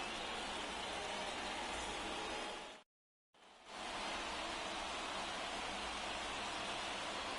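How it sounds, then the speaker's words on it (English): Heavy rain pours steadily in an MLB The Show 24 baseball game between the Giants and Rockies, a loud, dense hiss that cuts out briefly partway through and then resumes just as strongly. "This rain is not letting up."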